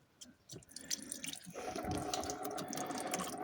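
Antifreeze running out of freed coolant hoses into a drain tray on a 1993 Alfa Romeo Spider, faint splashing and dripping that grows into a steady pouring trickle.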